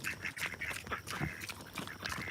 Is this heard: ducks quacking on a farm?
yes